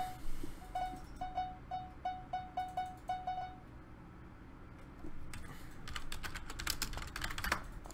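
Computer keyboard typing in a gaming session: a run of quick, evenly spaced key clacks up close, then fainter clicking against a low background hum.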